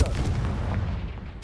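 A Confringo blasting spell explodes in the Hogwarts Legacy video game, a loud low booming blast with a rumbling tail lasting about a second before cutting off.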